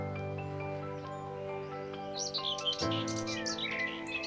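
A Himalayan bird with a black helmet-like cap, big eyes, a wide bill and a long tail gives a run of bright chirps and high twittering notes over a steady background of sustained tones.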